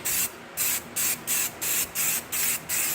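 Rust-Oleum NeverWet is sprayed from an aerosol can as a second coat onto an ATV, with eight short, steady hissing bursts in an even rhythm, each lasting about a quarter second with brief pauses between.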